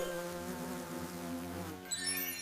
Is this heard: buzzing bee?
yes